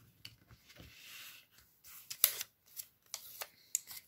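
Decorated design paper being cut for a scrapbook album cover, a few soft snips and paper rustles in short bursts, close and quiet with pauses between.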